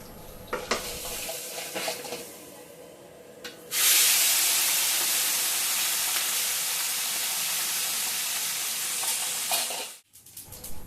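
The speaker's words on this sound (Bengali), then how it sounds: "কাতলা মাছগুলো বেশি কড়া না করে হালকা হালকা ভেজে নিলাম" Katla fish pieces frying lightly in hot oil, a loud, continuous sizzle and hiss that starts abruptly after some quieter clinks and stirring, then cuts off sharply near the end.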